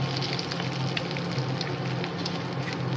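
Dried red chili tempering in a little hot oil for a Bengali potol chingri dish, a steady crackling sizzle with small pops, close and continuous.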